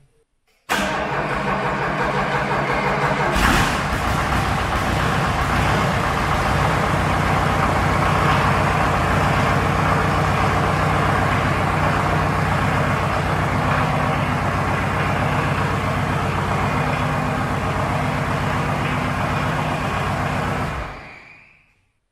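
Engine of a DIY mini loader catching abruptly after cranking, then running at a steady, loud, rumbling idle for about twenty seconds before cutting off.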